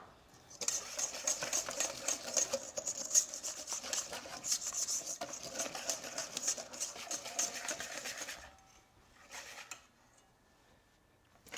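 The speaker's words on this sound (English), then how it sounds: "a little bit of freshly ground black pepper" A pepper mill grinds freshly ground black pepper, a close, continuous raspy crunching for about eight seconds before it stops and a few light handling noises follow.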